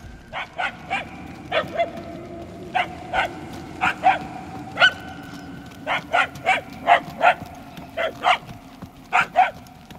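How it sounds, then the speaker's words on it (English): Dogs barking in the Guardians of the Galaxy video game, a steady series of short, sharp barks in irregular clusters, moderately distant, over a low ambient game background with no talk. "The barks are getting louder, at least."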